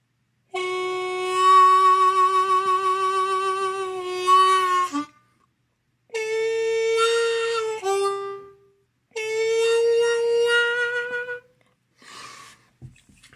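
VOX Type 2 harmonica notes held in three long phrases separated by pauses, played with tongue blocking, each pitch sliding down a half step in a clear bend, with a short breathy note at the end.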